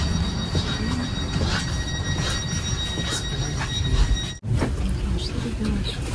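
Trains at the largest railway station in Łódź rumble steadily with wheel squeal and faint tonal whines in a large hall, continuous and fairly close, with brief low voices.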